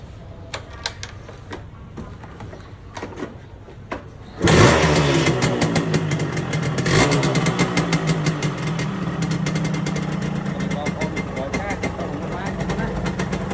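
Faint ticking and clicking give way to a motorcycle engine firing abruptly to life, then settling into a steady, close, rattling idle that runs to the end.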